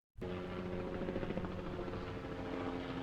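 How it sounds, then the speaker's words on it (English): A helicopter lifts off into crisp mountain air, its rotor and turbine starting abruptly and then holding a loud, steady, close drone with a faint rhythmic blade chop throughout. "the helicopter lifted smoothly into the crisp mountain air"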